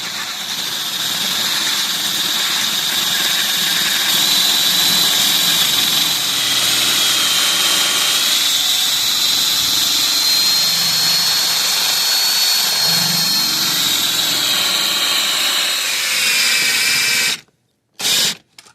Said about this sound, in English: First I'm going to drill it straight